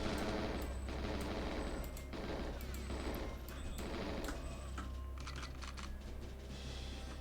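Gunfire in the N64 shooter GoldenEye 007, rapid bursts of clattering automatic shots repeating in quick volleys over a steady game background hum.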